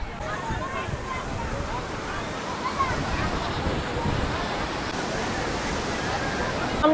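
Rough surf at Puri beach on the Snan Yatra day sends up a constant broad roar of breaking waves, steady and fairly loud throughout, with no clear voices over it.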